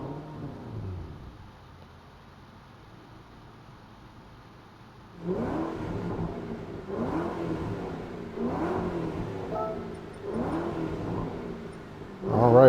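A 2006 Ford GT engine in the video game Gran Turismo 7 starts up after a quiet stretch, then revs in repeated rising surges, fairly loud and near.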